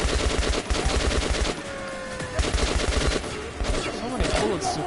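Rapid automatic gunfire in Metro Last Light Redux, dense bursts of loud shots with short pauses between them, then more firing.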